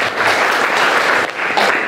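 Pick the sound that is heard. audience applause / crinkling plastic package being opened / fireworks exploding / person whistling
audience applause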